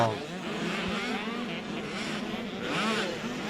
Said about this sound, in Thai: ไม่มีการลดคันเร่งไม่มีแผ่วเลยสำหรับ น้องคนนี้ครับกฤษดาวราราช